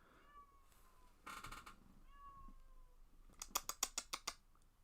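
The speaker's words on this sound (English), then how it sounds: "I think my cat's hungry." A house cat meows several times at moderate distance, the drawn-out cries rising and falling, with a brief rustling burst and a quick run of sharp clicks near the end.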